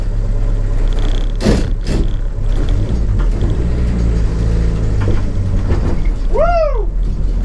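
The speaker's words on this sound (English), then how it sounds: "Time for the first little drive" A Ford Transit Mk1 van's engine drones at a low, steady rumble from inside the cab on its first drive, with a couple of knocks and a rising whistle-like squeak near the end, loud and continuous.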